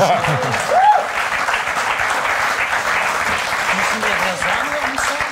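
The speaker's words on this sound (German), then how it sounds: "Applaus." Studio audience on a German cooking show applauds, a steady wash of clapping with voices talking over it throughout.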